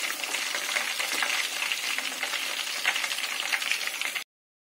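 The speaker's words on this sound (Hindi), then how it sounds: "अभी हम इसको निकाल लेंगे और दूसरे वाले भी इसी तरीके से तल लेंगे।" Chicken kabab pieces deep-frying in hot oil give a steady, close, dense crackling sizzle that stays even throughout and then stops abruptly near the end, with no voices.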